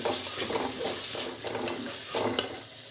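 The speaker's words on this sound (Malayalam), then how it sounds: "കുറച്ച് മഞ്ഞൾപ്പൊടിയും കൂടി ഇടണം ഇട്ടിട്ട് ഇത് നല്ലപോലെ ഇളക്കി എടുക്കാം" Chicken curry stirred in a pan with turmeric powder added, a steady sizzling fry under repeated scraping strokes of the spoon, close and continuous with no talk.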